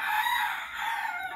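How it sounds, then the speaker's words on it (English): A rooster crows loudly and close by in one sustained, strained call that fills the whole moment. "sorry for the rooster, that was loud"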